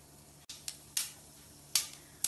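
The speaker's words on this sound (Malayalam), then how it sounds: "ഇതിലേക്ക് 1/2 ടീസ്പൂൺ കടുക് ഇട്ട് പൊട്ടിക്കാം" Half a teaspoon of mustard seeds in hot sesame oil gives a few sharp, isolated pops and crackles, spaced irregularly over a quiet background.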